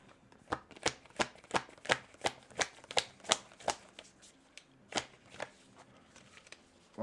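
Tarot cards being shuffled at close range, a steady run of about sixteen crisp riffling snaps with a brief pause near the end, with no talk over them.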